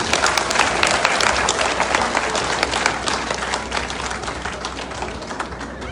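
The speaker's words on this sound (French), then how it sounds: "Il faut applaudir le Front populaire ivoirien" A crowd at a political gathering in Paris applauds the Front populaire ivoirien with loud, dense, sustained clapping that fades slightly toward the end.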